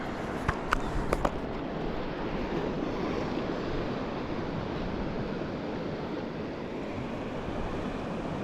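Wind rushes over the microphone while waves break steadily on the shore at Folkestone Warren, a continuous loud roar with a few sharp knocks near the start.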